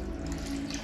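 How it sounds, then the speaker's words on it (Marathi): Water poured into a cooking pot of rice and potato curry in a home kitchen, a steady close splashing trickle that runs through the whole short moment with no talk. "पाणी टाकले त्यात"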